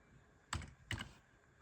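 Two separate keystrokes on a computer keyboard while using the Windows search menu, close and quiet, with a short pause between them.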